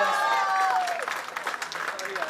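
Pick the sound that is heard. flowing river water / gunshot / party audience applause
party audience applause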